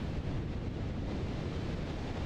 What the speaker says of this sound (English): It's heckin' windy.